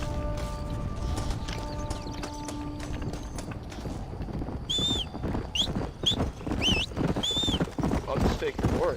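Horse hooves clip-clop steadily in a first-person Red Dead Redemption Undead Nightmare playthrough, with mechanical creaks and tonal game sounds layered over a busy background.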